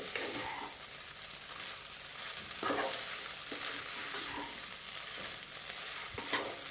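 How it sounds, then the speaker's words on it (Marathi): A spoon scrapes and stirs sabudana khichdi in a hot pan, with a steady soft sizzle and repeated scraping strokes, close and fairly quiet, with no talking. "हे पहा आता हे आपण मिक्स करून घेऊ छान असं परतवून घ्यायचे"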